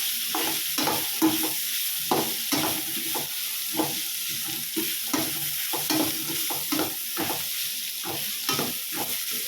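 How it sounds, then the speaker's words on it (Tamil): Grated coconut being stirred into a carrot and beans stir-fry in a pan, with a constant soft sizzle under quick, repeated scraping strokes, close and steady, no voices. "தேங்காய் சேர்த்து நல்லா கிளறி விட்டுக்கலாம்."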